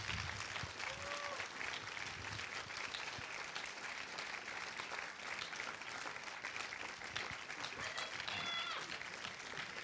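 Audience at a short film festival closing ceremony applauding as the co-directors come on stage, continuous dense clapping at moderate distance with faint voices mixed in.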